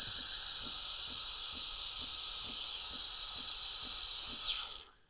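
A Gaggia Carezza espresso machine's steam wand hisses steadily while frothing milk, with a faint rhythmic pulsing underneath, then the hiss tapers off as the steam is shut.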